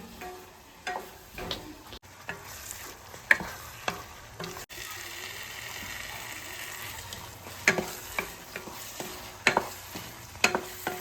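Spoon scraping and clinking against a pot while chickpea masala for biryani is stirred, a series of sharp intermittent knocks over a faint sizzle, with no talk.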